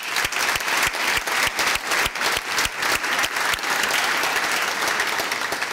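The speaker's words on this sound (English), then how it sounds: "I would say a hand of applause on that." Applause at a master's graduation ceremony for Human Movement Sciences graduates in Maastricht, steady crowd clapping filling the hall with a few louder nearby claps standing out throughout.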